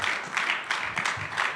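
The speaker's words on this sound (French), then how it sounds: "we clap to the Lord?" A church congregation claps for the Lord in worship, a steady wash of many hands with several swelling bursts, fairly distant and moderately loud, with no voices over it.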